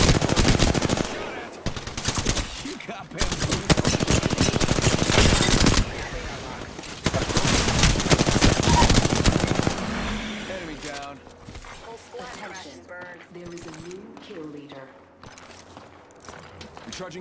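Rapid automatic gunfire from a video game shootout rattles loud and close in dense bursts for about ten seconds, then drops away as game voices, music and softer effects carry on.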